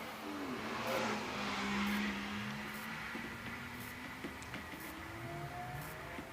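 A fierce Porsche 996 GT3 with a 3.6-litre flat-six engine racing at the Shelsley Walsh hill climb, heard as a faint, distant engine whine rising and falling through gear changes, alone.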